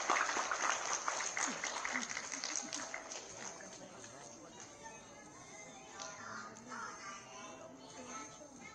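An audience applauds at a kindergarten graduation in Cebu City, a dense patter of clapping that is strongest at first and then thins out, with voices murmuring underneath.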